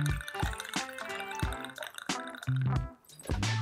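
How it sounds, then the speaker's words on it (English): Bourbon is poured into a honey-rimmed cocktail glass, giving a close, continuous liquid glugging and splashing with small clinks of glass throughout. "Pour just however much bourbon you want."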